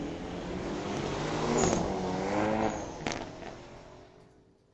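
A 2023 Hyundai Elantra N launches down the drag strip at Mission Raceway. The engine swells to a loud rising roar and then fades as the car pulls away into the distance.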